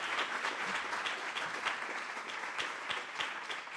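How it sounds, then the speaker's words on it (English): Steady applause from an audience at an evening charity celebration, a dense, continuous wash of many hands clapping at even loudness throughout. "Another round of applause, please."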